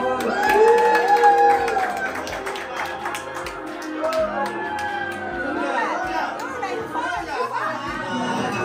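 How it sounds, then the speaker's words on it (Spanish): A crowd claps and cheers, with lively chatter and shouts mixed in, while a voice speaks over the noise. "Las palmas para Douglas, por favor."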